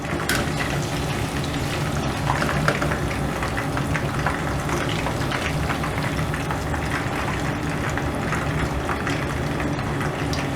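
Chicken lollipops frying in hot oil, a steady dense sizzle with bubbling crackle running loud and continuous throughout, no voices.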